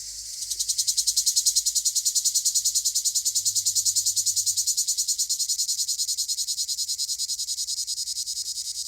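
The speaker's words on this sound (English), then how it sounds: "a cigale just landed right next to my ear so that I could show you" Cicadas (cigales) drone loudly and continuously at close range outdoors near Colombier, with one insect landing right by the ear, producing a dense, pulsing, steady buzz that holds for the whole stretch without pause.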